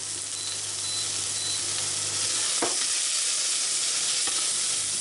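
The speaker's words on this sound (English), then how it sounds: "the ghee started to burn a little bit" Ghee burning and sizzling hard in an overheated pan, a steady loud crackling hiss throughout, with a couple of brief sharp scrapes or clinks partway through.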